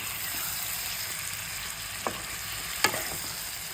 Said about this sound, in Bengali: এই যে ম্যারিনেট করা চিকেনটা, এটা আমি এর মধ্যে দিয়ে দিলাম। দিয়ে এটাকে ভালো করে কষাতে হবে।